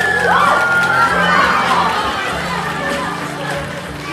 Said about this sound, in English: Let's give a round of applause for our volunteers.